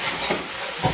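Leafy greens and poppy seed paste scraped and stirred in a pan, a brief close-up of soft scraping strokes over a light sizzle.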